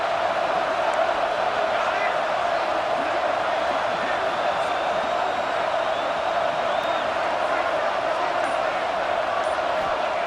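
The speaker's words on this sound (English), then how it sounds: "Listen to the crowd energy here in the early going." Dense crowd roar filling a stadium at a Miami football game early on, a steady, unbroken wash of cheering and noise with no breaks.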